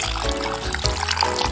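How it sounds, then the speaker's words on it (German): Water is poured from a dispenser into a bottle, filling it with a steady gurgling trickle whose pitch rises as the bottle fills, loud and close, with no one talking. "Zuerst nehme ich die Flasche ab und fülle sie mit Wasser auf."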